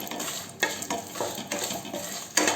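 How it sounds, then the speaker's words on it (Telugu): Fenugreek seeds, mustard seeds and dried red chillies frying lightly in a teaspoon of oil for gongura pulihora, with a soft steady sizzle and a few scraping stirs of a spoon in the pan, no voices. "1 టీ స్పూన్ ఆయిల్ వేసుకొని ఇవి మెంతులు, ఆవాలు లైట్గా ఫ్రై చేసుకుందాము."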